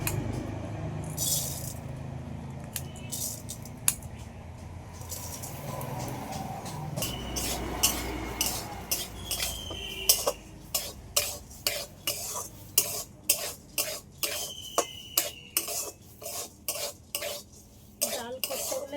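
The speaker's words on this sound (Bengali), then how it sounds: "এবারে আমি খালি করে ডালটা একটু ভেজে নেব" Washed mung dal dry-roasting in a wok, heard as a rhythmic series of metal spatula scrapes and rattles against the pan, growing more regular and insistent in the second half, with a faint sizzle and no speech.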